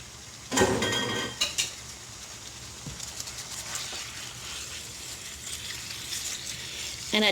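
Beef and its marinade are tossed into a hot pan, opening with a sudden loud splash and sizzle, then a lower, steady frying hiss with scattered clinks of utensil against pan.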